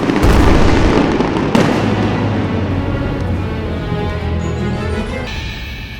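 Diwali firecrackers explode in a dense, loud barrage over Delhi, overlapping booms and crackling pops rolling on continuously, with a sharp burst near the start and no speech.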